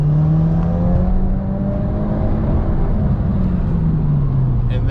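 A Dodge Dakota pickup cruising along with a steady low engine drone and road noise throughout, the engine note gently rising and falling, close and continuous.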